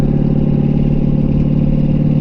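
A Ford Capri's engine drones steadily from inside the car on a winding road, a loud, constant mid-pitched hum with slight rumble and no pauses.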